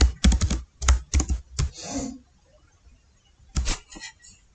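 Rapid bursts of keystrokes on a computer keyboard while typing C++ code, clustered in quick runs with a pause in the middle before a final short flurry of taps, close and clear.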